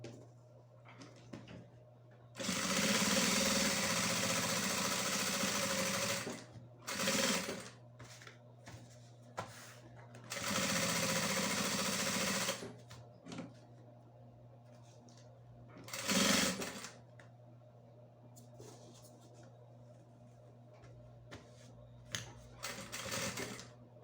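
A sewing machine runs in several bursts, stitching a handbag's slippery lining to its fabric, with quiet pauses between runs and a steady low hum underneath.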